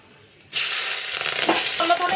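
Bay leaves and five-spice seeds hit hot oil in a pan, a sudden loud sizzle that starts abruptly and continues steadily with light crackling.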